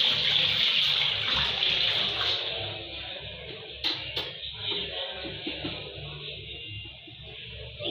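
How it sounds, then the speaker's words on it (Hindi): Tap water runs steadily into a sink while hands are washed, a bright rushing stream that cuts off partway, leaving quieter splashes and handling noises. "अभी हम यहाँ पे हैंड वॉश करने आए तो जल्दी से हैंड वॉश करते हैं"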